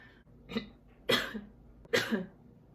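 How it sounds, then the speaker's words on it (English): Three harsh, separate, painful coughs from a laparoscopy patient, close by, spaced roughly half a second apart. "Every time I cough, it really hurts."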